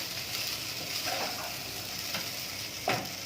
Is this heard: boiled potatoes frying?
yes